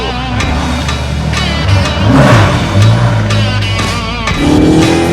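A Ferrari California engine revs hard up close, its loud mid-pitched drone climbing and dipping, then surging again, with a strong car-interior rumble underneath throughout.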